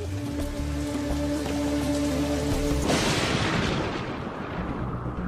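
Heavy Indian monsoon rain bursts in midway as a loud, dense roar of pouring water, following a stretch of steady sustained tones.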